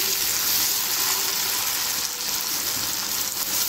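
A ground masala paste sizzles loudly as it fries with the spices for a Tamil-style mutton varuval, producing a dense, constant hiss and crackle from close up with no talk over it.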